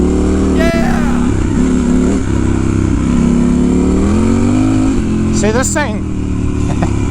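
A Triumph Scrambler 1200 XE motorcycle riding off-road over potholed ground, its engine droning loud and steady with rising and falling revs, while riders talk and shout over it.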